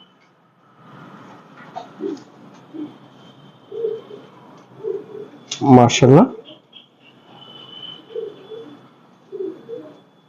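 Chinese teddy pigeons, brought from Pakistan and Oman, give soft, low coos in a close series. Someone speaks over and between them.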